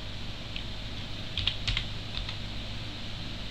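Typing on a computer keyboard while editing a field in a members-area web form, a short cluster of soft, close key clicks over a steady low hum, with no voices.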